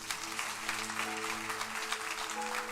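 Church congregation applauding during a worship service, a short burst of steady, fairly faint clapping with a faint sustained tone underneath.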